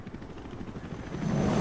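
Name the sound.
helicopter in video game Metal Gear Solid V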